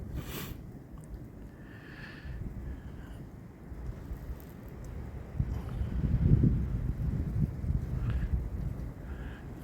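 Wind blowing through the night around a tree stand during a snowy deer hunt, a steady low rushing buffet against the microphone that swells louder in the second half, with faint rustling.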